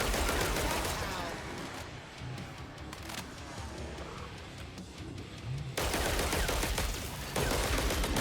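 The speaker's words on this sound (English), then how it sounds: "I just like the fast fire rate, it's funny. Sounds like a pea shooter while I'm at it" Rapid automatic fire from the Artemis medic gun in Killing Floor 3, a fast stream of light, popping shots in bursts, with a quieter gap in the middle before the firing resumes loud and close.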